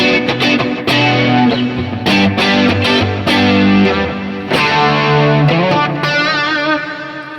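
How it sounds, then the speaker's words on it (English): Electric guitar with a distorted, effects-heavy rhythm tone from a Line 6 Helix, played as dense strummed chords with sharp rhythmic attacks. It stays loud and alone throughout. "And then I switch on the rhythm sound."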